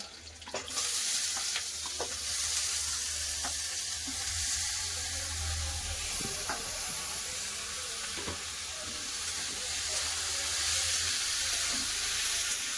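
Cauliflower, carrot and potato frying in a pan give a steady sizzle throughout, with intermittent scraping and clinks of stirring on top.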